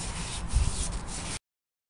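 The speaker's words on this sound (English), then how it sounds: "Here we're using the stripping pads as a cleaner." A brief, close rough scrubbing sound of a stripping pad rubbed over metal go-kart parts, lasting about a second before cutting off.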